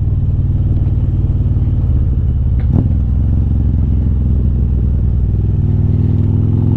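A Harley-Davidson motorcycle with a 124 cubic inch engine and upgraded Öhlins suspension rumbles loudly while riding, a steady low engine drone with one brief clatter partway through.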